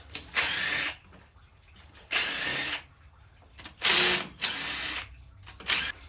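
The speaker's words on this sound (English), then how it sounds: "let's get these intake bolts loose" A power tool spins off intake bolts on a hot rod 4x4 in five loud close bursts, each a whirring buzz with ratcheting, separated by short pauses.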